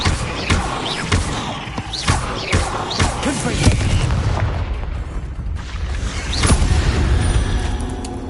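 The Confringo explosive spell fires in the video game Hogwarts Legacy, a string of booming blasts and thuds over dense game effects and a continuous rumble, loud and close.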